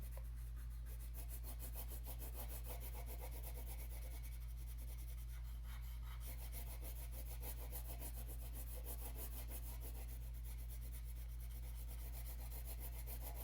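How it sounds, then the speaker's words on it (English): A wax crayon colours in a heart tracing sheet on paper, making a soft, continuous close-up rubbing scratch with quick back-and-forth strokes, faint and steady, with no voices. "it's really easy to color in the lines when I hold my crayon with 3 fingers"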